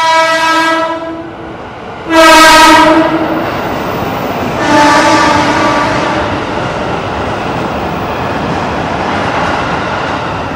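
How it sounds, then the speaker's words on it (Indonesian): A KRL commuter train in the Jakarta area rushes past at speed with loud, repeated horn blasts, three long honks over the steady roar and rumble of the cars. "Kalau KRL-nya melintas langsungnya ngebut itu nggak main-main ya klaksonnya."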